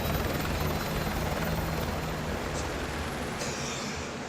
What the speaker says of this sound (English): Use my helicopter.